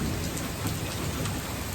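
Steady, dense rain pours down in a loud, constant hiss, with a deep low rumble of thunder beneath it.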